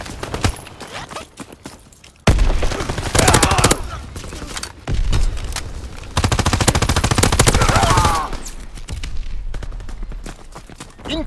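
An M1928 submachine gun in Call of Duty: WWII fires in long, rapid bursts separated by short pauses. The close, loud clatter comes with game battle noise.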